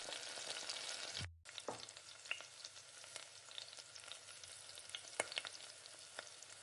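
Marinated chicken 65 pieces frying in oil in a pan, a steady close sizzle with a brief cut and scraping clinks as the pieces are turned over, no talk.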